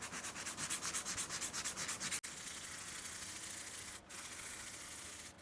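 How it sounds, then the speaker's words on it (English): Rhythmic back-and-forth rubbing of an automotive sanding sponge against an Epiphone guitar's wooden fretboard, quick regular strokes, then a steadier continuous scrubbing after a brief pause, close up and quiet. "we'll just get out a little bit of very light sandpaper. I like automotive sanding sponges"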